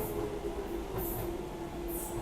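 Docklands Light Railway train halted at a platform, its steady low hum and rumble continuing evenly with faint hiss on top, no announcements or talk.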